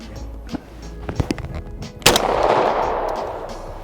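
A semi-automatic hunting shotgun fires at clay targets during a practical hunting licence exam, with a few small handling knocks followed by one loud, close blast that leaves a long rumbling tail outdoors.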